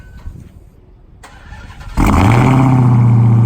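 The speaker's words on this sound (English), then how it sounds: "Let's do a cold start of the Hell Kitty." Dodge Hellcat V8 cold start: quiet background gives way to a sudden loud crank and catch, then a sustained, deep, booming high idle that holds steady close to the microphone.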